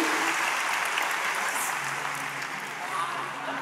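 Dense, steady audience applause fills a live stand-up comedy show in a large arena, a continuous wash of many hands clapping at even loudness throughout.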